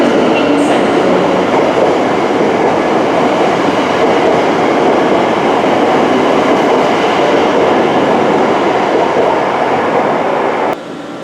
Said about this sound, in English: That departure of a Class 730 EMU out of London Euston was absolutely brilliant.